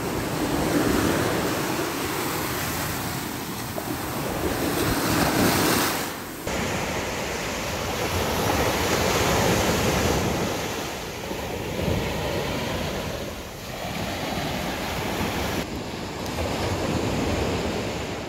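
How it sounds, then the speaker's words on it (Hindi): Ocean waves roll in at Gwadar beach along the Marine Drive coast in South Pakistan: a loud, continuous broadband wash of surf with a couple of surges, some wind rumble on the microphone, and no talk. "ये जो आप देख रहे हैं लहरें आ रही हैं"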